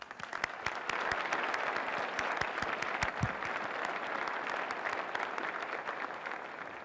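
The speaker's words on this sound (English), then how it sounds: "Let's give our winners one more round of applause" Steady applause from an audience honoring award winners at Riverside's mayoral State of the City event, a dense continuous wash of clapping with some louder nearby claps.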